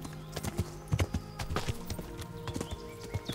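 Horse hooves clip-clop at a steady riding gait in the medieval video game Kingdom Come: Deliverance, a close, rhythmic patter of hoofbeats with no talking.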